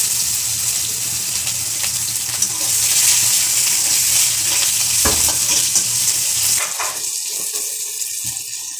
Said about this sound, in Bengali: পেঁয়াজ কুচি দিয়ে দেবো